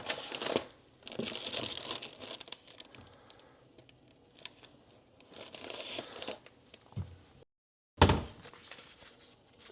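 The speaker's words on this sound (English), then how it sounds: "So let me get the paper filter out." Close, crinkly rustling of a paper coffee filter being handled and unfolded in several bursts, with a brief silent gap before one last crisp crumple.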